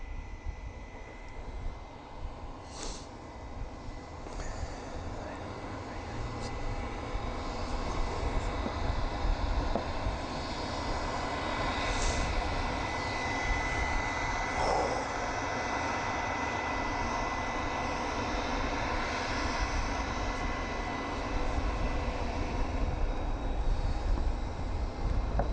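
An EasyJet airliner for Alicante is pushed back at Southend Airport, a steady, broad rumble of engines and ground equipment heard from a distance and holding constant throughout.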